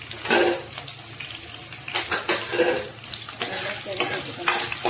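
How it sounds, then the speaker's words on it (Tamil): Onions and a slit green chilli sizzling in a pan after curry leaves, with stirring scrapes and bursts of frying noise rising and falling close by, no voices. "கருவேப்பிலை போட்டு முடித்த உடனே வெங்காயம் போட்டு வெங்காயம் ஒரு பச்சை மிளகாய் மட்டும் கீறி வச்சுருக்கேன்."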